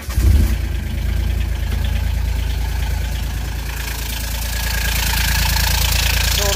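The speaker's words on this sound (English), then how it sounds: "6x4 diesel gator with a little Yanmar 3-cylinder diesel in it" A diesel 6x4 Gator utility vehicle with a small Yanmar three-cylinder diesel engine, reported as running rough, starts and idles loudly and steadily nearby.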